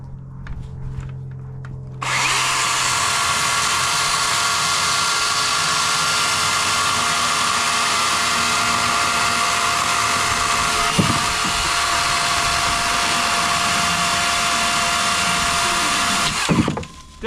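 A DeWalt battery chainsaw bites into logs at night with a loud, steady high whine that holds for about fifteen seconds after a quiet start. The cut ends with a brief wind-down.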